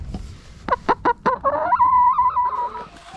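A few short, sharp clucks from a chicken, then a longer drawn-out cackling call, close by with no other sound.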